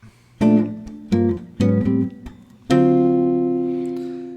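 A guitar plays a short rhythmic phrase of four strummed chords, the last one left to ring out and slowly fade.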